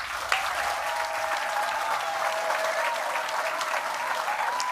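Studio audience applause for comedian Akaash Singh's entrance on a podcast stage: dense, steady clapping sustained throughout, loud and close, with a faint whoop or cheer near the start.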